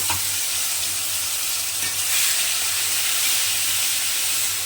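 Fried okra sautés with poppy seeds in a pan, making a constant, close sizzle and steamy hiss with a faint low hum beneath and no speech.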